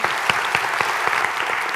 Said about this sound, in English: all of our panelists, a big round of applause.